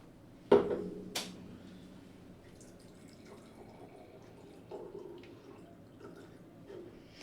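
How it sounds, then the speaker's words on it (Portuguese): Magnetized, ionized water is poured into glasses: a sharp clink of glass, then a faint, soft trickle of liquid running on for several seconds. "Barulhinho de água, né?"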